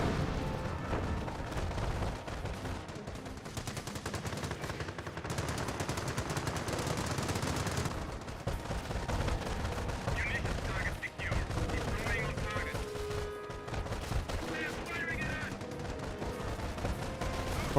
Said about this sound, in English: Sniper is hitting these Fallschirmjägers.